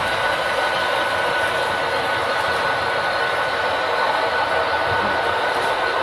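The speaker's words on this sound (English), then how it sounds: "we'll bring in the 5th train" A model train rolling along a tabletop layout, a continuous even rumble and rush with no breaks, fairly loud and close.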